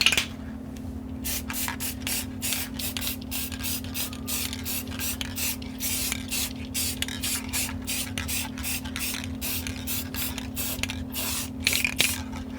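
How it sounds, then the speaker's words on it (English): Thin clear coat sprayed inside a speaker cabinet during a 1x4 Xforce blue label subwoofer box rebuild, a steady close hiss running the whole time with short bursts and pauses, over a constant low electrical hum. "I've seen guys that they've been spraying the inside of their cabinets"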